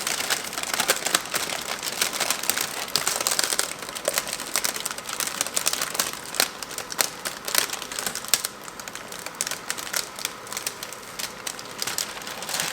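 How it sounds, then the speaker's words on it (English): Car window tint film being peeled off the glass, a continuous dry crinkling and tearing rustle that carries steadily at close range. "So we're gonna keep on peeling."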